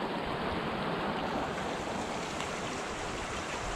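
A forest brook in Maine runs steadily, a broad continuous wash of flowing water that stays even and fairly close throughout with no other sounds.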